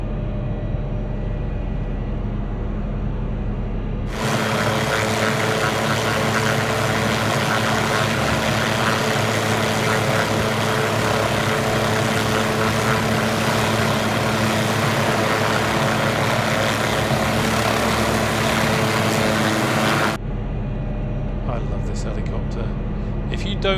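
A loud, constant helicopter engine roar and whine from a flight simulator video game runs steadily through most of the clip; a voice can be heard at the edges.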